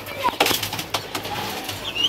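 A pigeon being caught to go into a cage, giving soft coos and brief wing flaps amid scattered close handling noises, short and fairly faint.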